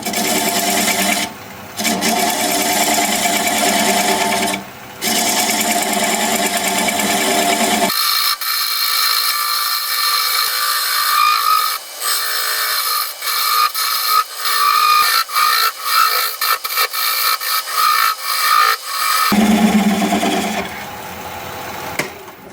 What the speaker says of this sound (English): I'm going to grab a 1/2 inch bowl gouge and begin to removing that tenon.